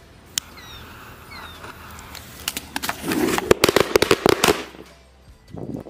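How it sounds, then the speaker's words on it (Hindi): A string of firecrackers bursts inside a big hole in the ground, a rapid crackling volley of sharp pops building and fading over a few seconds, with birds chirping faintly beforehand. "अब जलाते इस वाली लड़ी को देखते हैं ये कैसी यहाँ पर जलती है"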